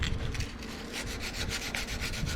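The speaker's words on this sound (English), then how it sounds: "Piece of sandpaper." A Cold Steel Laredo Bowie knife handle is hand-sanded with sandpaper during a full-tang conversion, producing steady back-and-forth rasping strokes in a quick rhythm, close and moderately loud with no talking.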